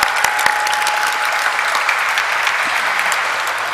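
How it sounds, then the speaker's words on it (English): An audience at a company stock listing ceremony for Concord Biotech Limited claps loudly and steadily, a dense, sustained round of applause from a large crowd with no voices on top. "let's have a huge round of applause for this beautiful Concord Biotech Limited"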